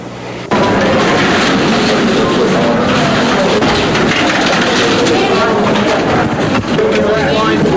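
A jam-packed New York subway train rumbles and rattles loudly along the tracks, a constant roar with voices murmuring throughout.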